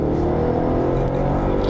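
A car, floored hard by its driver, gives a loud, continuous engine roar with strong low rumble that holds steady throughout, close up and with no talking.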